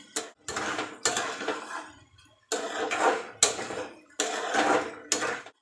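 A spoon scrapes and clatters around a cooking pot of sambar in repeated stirring strokes, each lasting roughly half a second to a second with short pauses between, close and moderately loud.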